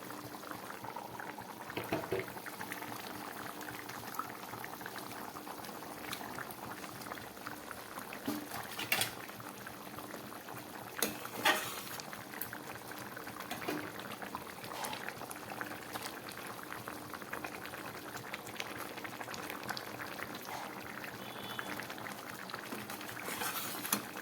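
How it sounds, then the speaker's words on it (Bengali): Prawn curry gravy bubbling at a steady boil in a pot on a gas stove, a continuous seething, gurgling simmer with occasional louder pops and faint clinks throughout. "ঝোলটা ফুটে উঠেছে এবার আমি এর মধ্যে দিয়ে দেবো এই ভেজে রাখা চিংড়ি মাছগুলো"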